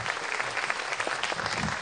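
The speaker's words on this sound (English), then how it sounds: "please give him a warm round of applause" A brief burst of crowd applause at an outdoor protest rally in Houston, sustained and even throughout, with no voices breaking through.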